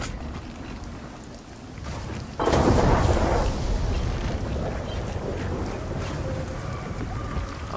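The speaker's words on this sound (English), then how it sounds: "And now it's raining." Rain in the video game Gears of War 4: a dense, loud hiss of falling rain that starts abruptly partway through and stays steady, following a quieter ambient stretch.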